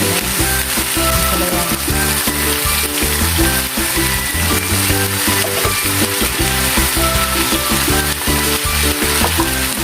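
Okra and string beans sizzle loudly in a pan for pinakbet, a dense continuous frying crackle with stirring scrapes throughout and no talk.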